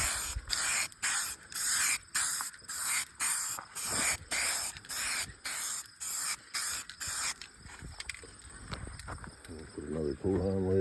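Rhythmic bursts of spray paint hiss as a light coat goes onto a John Deere B tractor, about a dozen pulses close to the mic, then quieter handling noise and faint clatter.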